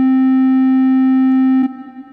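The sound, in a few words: squared sine synth arpeggio, ascending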